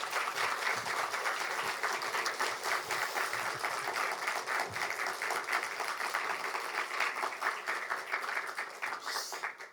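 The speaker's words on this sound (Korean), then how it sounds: "힘차게 박수로 강사님 모시겠습니다." Steady applause from a large church congregation fills the space, a dense wash of clapping that holds evenly for about ten seconds before tapering slightly.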